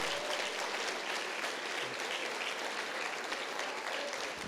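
A church congregation applauds with steady, dense clapping that carries on evenly from start to finish.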